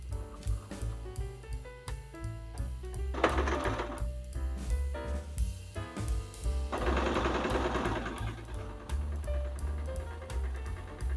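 Sewing machine with a universal presser foot stitching a straight seam about half a centimetre from the fabric edge, a close, steady mechanical whirr that stops and restarts in short bursts, with no talking.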